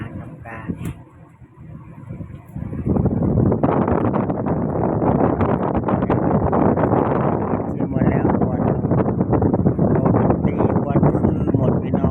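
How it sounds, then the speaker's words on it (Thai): Strong wind buffets an outdoor microphone in a loud, continuous roar after the first few seconds, with a voice briefly audible at the start. "วันนี้ลมแรงแข็งเนาะ"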